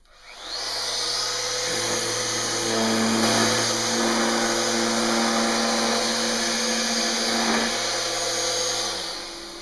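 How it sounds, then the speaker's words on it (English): A handheld Festool sander runs steadily on wooden door parts, a continuous close whine with a sanding hiss that spins up at the start and winds down at the end, no talking. "I'm just going to go ahead and sand each of these."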